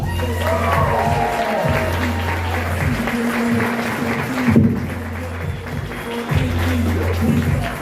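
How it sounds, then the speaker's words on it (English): An audience at a comedy club claps in a steady burst of applause, with a few cheers mixed in over a low rhythmic background beat. "give it up for a big round of applause for him"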